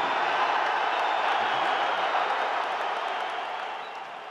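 Applause fills the arena at the 2022 NHL Draft as Juraj Slafkovsky is picked first overall by the Montreal Canadiens, a steady wash of crowd clapping and cheering that holds loud, then begins to thin and fade toward the end.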